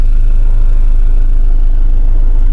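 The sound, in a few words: 1996 Honda Integra Type R running on original exhaust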